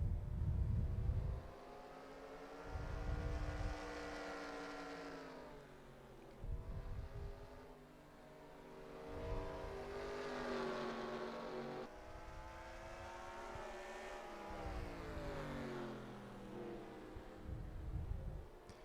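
Race cars howl around Bristol in the NASCAR Racing 2003 video game, with engine notes rising and falling in repeated surges as cars accelerate and lift through the laps, with brief low rumbles between.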